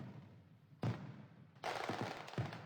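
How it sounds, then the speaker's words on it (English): Rapid bursts of a five-stage thunder firework, sharp loud cracks that cut in abruptly and crackle on in a quick popping series, close and forceful, with no voices. "The sounds abruptly washed out by the rapid popping of a 5-stage thunder firework, reminiscent of a bursting mortar shell."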